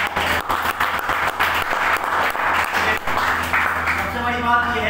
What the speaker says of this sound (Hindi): उनके लिए ताली बजाओ जिन्होंने ये सारा इवेंट करा है।